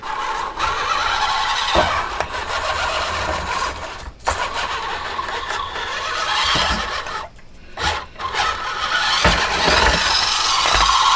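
An Injora Bug24-bodied SCX24 RC crawler with an Injora MB100 ESC and brushed motor grinds over crawler tracks, its whining motor running continuously and shifting pitch as it climbs, close up.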